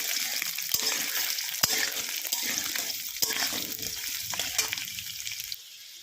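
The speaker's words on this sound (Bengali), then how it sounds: "আলুটাকে ভালো করে লাল লাল করে" Potatoes fry in hot oil for a vegetarian soybean curry, a continuous close sizzle broken by sharp ticks of stirring and a quieter tail.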